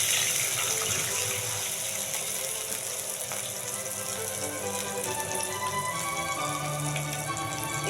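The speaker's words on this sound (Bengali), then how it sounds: "দিয়ে দেবো অল্প একটু জল," Water pours steadily into a pan for a pabda fish mustard-poppy curry, a continuous close gushing splash that holds at an even level throughout with no voices.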